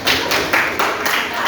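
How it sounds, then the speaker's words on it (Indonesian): In a high school classroom, students clap for their classmates in a short burst of rhythmic clapping, a few distinct pulses roughly every quarter second from a small group, fairly close and loud. "tepuk tangan buat semuanya"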